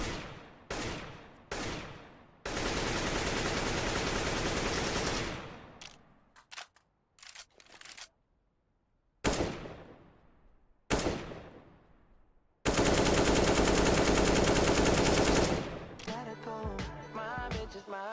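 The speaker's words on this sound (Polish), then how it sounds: "jak fantastycznie brzmiał stary dźwięk AK" Bursts of AK rifle fire from the old Counter-Strike: Global Offensive sound, in several rapid volleys, some long sustained streams and shorter clusters, loud and close with brief pauses between, no talking.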